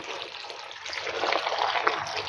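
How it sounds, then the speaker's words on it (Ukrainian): A litre of water poured into a container for a mushroom marinade, a steady trickling splash that runs close and moderately loud through the whole moment, alone without talk. "Вливаю літр води на водички."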